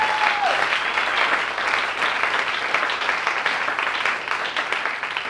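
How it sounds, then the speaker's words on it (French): A church congregation bursts into loud, dense applause for the Lord during a French-language worship service. The clapping is continuous and close, with no pauses. "Est-ce qu'on peut encore acclamer le Seigneur?"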